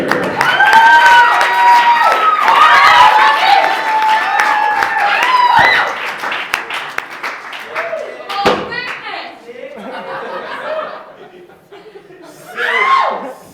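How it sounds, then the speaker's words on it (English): A stand-up comedy crowd claps and cheers loudly with laughter and whoops mixed in, the noise gradually thinning out before a final burst near the end. "Big round of applause for Grisby, everybody."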